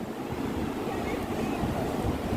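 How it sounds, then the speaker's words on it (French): Ocean waves rolling onto a beach make a steady, loud wash of surf, with wind buffeting the microphone throughout. "j'ai dit à Théo va dans les vagues, tu auras plus d'eau"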